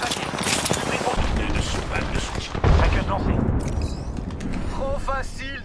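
Gunfire from the video game Apex Legends rattles in rapid bursts and sharp shots, loud and close, with a heavy blast near the middle and game voice lines and electronic chirps over the action.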